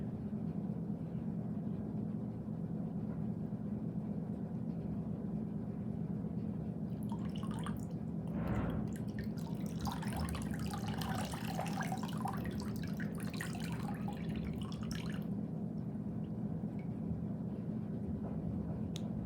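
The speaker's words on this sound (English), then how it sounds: "So when we put them in the water, they sink all the way down." Heavy toys such as a yellow truck, a brown rock and a black bear dropped into water, giving a burst of splashing and dripping that lasts several seconds over a steady low background hum before fading.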